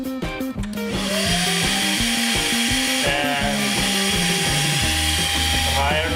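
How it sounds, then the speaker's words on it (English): An ILIFE H70 cordless vacuum cleaner runs at its lower setting, a steady loud motor whine with a sustained high tone that holds after a brief start-up. Mechanical clatter sits underneath, and no one speaks. "It sounds like this."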